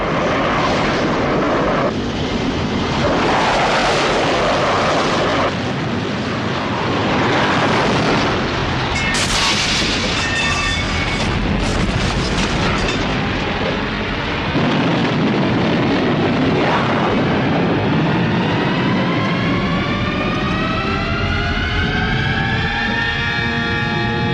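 A spacecraft lifts off in the 1981 sci-fi film Galaxy of Terror: a loud, continuous roaring blast with rumbling booms, ending in a rising whine as it climbs away.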